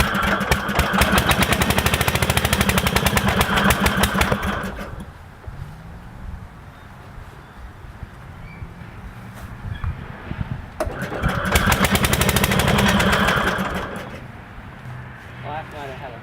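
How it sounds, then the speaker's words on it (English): A Dayton MTD 990 engine runs loud with rough, backfiring bursts, fading to quieter idling with talk and then surging loud again near the end. "Backfire just set my air intake on fire again."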